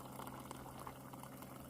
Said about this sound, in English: now I'm just going to add hot boiling water, or just hot water from my water dispenser here